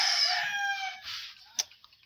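Broiler chickens on a farm give one loud, drawn-out call up close, followed by a brief sharp cluck and a few faint scratchy noises.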